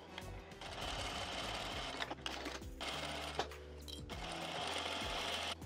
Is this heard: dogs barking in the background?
no